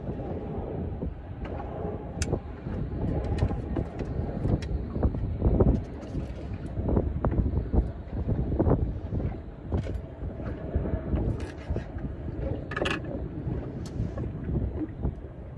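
Wind noise buffets the microphone offshore on a fishing boat near The Peak off Sydney, a steady rough rumble with gusting swells and occasional knocks throughout, with no voices.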